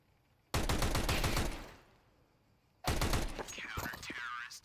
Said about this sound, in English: Aber with the Tech 9 pulls a great double here.